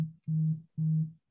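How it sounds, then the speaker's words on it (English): Recurring electronic beeping, likely a phone, sounds as three steady low tones: a short first beep, then two longer ones at an even rhythm, each separated by a short gap, fairly loud and alone with no talk. "I'm hearing a weird recurring beeping. Is that somebody's phone going off?"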